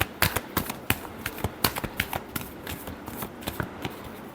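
Tarot cards being shuffled by hand during a reading, a rapid series of crisp riffling snaps and flutters in quick irregular bursts, close and fairly loud, with no talking.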